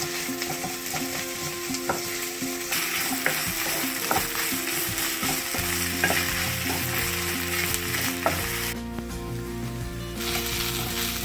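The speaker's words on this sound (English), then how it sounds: "I'm gonna add ginger garlic paste, 1 tablespoon of the ginger garlic paste, and saute it well" Ginger garlic paste, a tablespoon of it, sautés in a pan for shahi paneer, giving a steady close sizzle with repeated scraping and stirring clicks throughout, with no talking.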